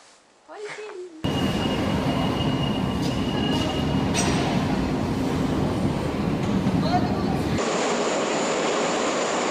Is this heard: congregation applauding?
no